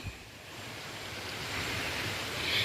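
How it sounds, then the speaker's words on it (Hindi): Mountain streams flow through a jungle, a continuous hissing rush of water that grows gradually louder, heard alone without talk. "मुझे हर जगह से बस पानी की आवाज़ सुनाई दे रही है।"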